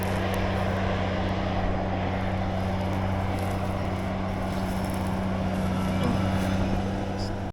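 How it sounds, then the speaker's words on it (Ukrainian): A CLAAS Tucan 580 combine harvester approaching across a wheat field, its engine a steady, unbroken drone that holds an even level for several seconds. "Ось і комбайн на підході."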